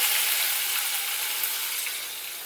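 Cumin seeds and ground masala paste fry in hot oil for a chicken kaleja fry, giving a steady, close, even sizzle that carries on without a break and eases off slightly toward the end.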